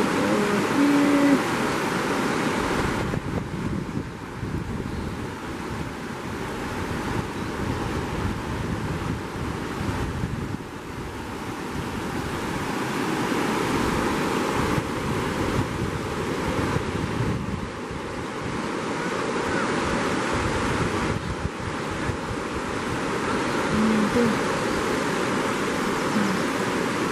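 River water flows with a constant broad rushing wash that swells and eases slightly, mixed with gusts of wind across the microphone.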